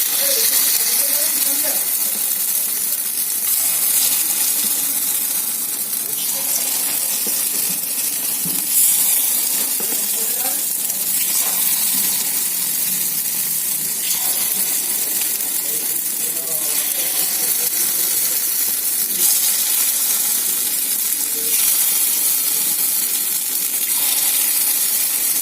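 Egg batter poured into an oiled pan, frying with a steady, soft sizzling hiss that holds throughout, while a person talks quietly over it.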